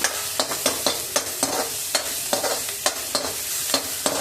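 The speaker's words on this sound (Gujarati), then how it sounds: "એની અંદર આપણે આ લસણ, આદુ ને મરચું જે હતું એને પહેલાં સાંતળી લેવાનું છે" Garlic, ginger and chili sautéing in a little oil for veg manchow soup, with a steady crackling sizzle and rhythmic spatula scrapes against the pan roughly every half second, close and clear, no voices.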